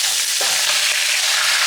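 Pieces of pork butt sauté in hot oil in a pan, giving a steady, close sizzle and crackle with occasional stirring scrapes and no speech.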